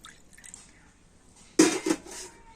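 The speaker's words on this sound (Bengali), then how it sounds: "দইয়ের বাটিতে একটু জল দিয়ে দেবো" Water poured into a yogurt bowl, a quiet drip and trickle followed by a short burst of splashing and a light clink of the bowl, close by.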